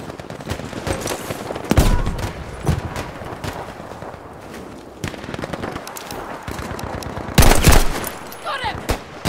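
Gunfire in the Battlefield V game: repeated loud gunshots and bursts crack through a busy battlefield din, with the heaviest volley near the end.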